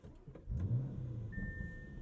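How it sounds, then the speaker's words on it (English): A 2021 Lamborghini Urus twin-turbo V8 fires up, a low rumbling engine start with a short pop of backfire, settling into a steady idle heard from close by. "You hear that backfire? From the twin-turbo V8."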